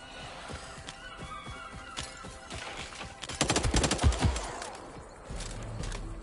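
Gunfire in the video game Hawked, with scattered shots followed by a rapid loud automatic burst in the middle of the clip, then quieter crackle.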